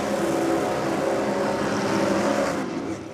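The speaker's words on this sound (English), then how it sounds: "going with the Brad Anderson engines. 521 cube, and listen to it." A 521 cubic inch Brad Anderson drag racing engine in a VZ Ute roars at a top fuel drag racing event, a loud, continuous, rough engine drone that eases slightly near the end.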